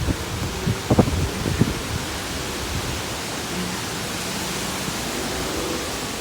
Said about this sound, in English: Oh, it's starting to rain a lot.